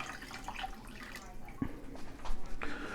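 Boiling water poured into a dish while cooking Greek food, a short close splashing and dripping with small clinks, fairly quiet.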